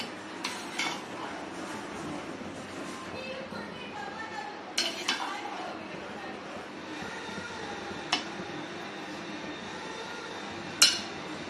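A spoon lightly stirs a sugary palathalikalu mixture in a metal pot. Soft, steady scraping is broken by a few sharp metallic clinks against the pot.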